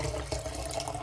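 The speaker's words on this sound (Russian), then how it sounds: "Просто добавлю сейчас в леечку отстаянную фильтрованную воду из фильтра" Filtered, settled tap water pours steadily into a small watering can for houseplants, a continuous close splashing stream with no pauses and no voices.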